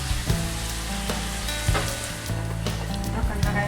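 Tomatoes hit a hot curry pan for a Nepali-style chicken curry, giving a loud, steady sizzle broken by several sharp bursts of spatter and stirring clatter, with no talking.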